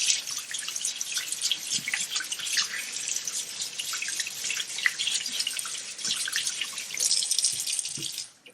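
Tap water runs and splashes steadily as a makeup brush is rinsed and rubbed against a hand, a continuous hissing stream with small drips and wet rubbing, close and fairly loud with no talking.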